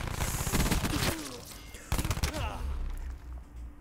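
Hip-fire gunshots in Call of Duty: Black Ops 4 ring out in rapid bursts, a dense volley early on, then a second cluster of sharp shots after a brief lull, with weapon clatter in between.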